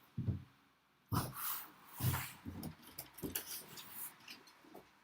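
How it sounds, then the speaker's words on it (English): Two dogs in conflict make short snorts, huffs and a few scuffling bursts at close range, with quiet gaps between them. "we got some conflict here, some doggy conflict."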